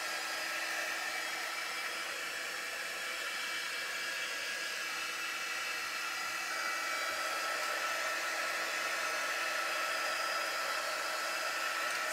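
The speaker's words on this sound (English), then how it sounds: "So I'm just drying this block here that we stenciled the love stencil on." A hair dryer blows steadily to dry watered-down permanent ink stenciled onto a block, making a continuous loud, even whooshing roar that runs unbroken for the whole stretch with no talking.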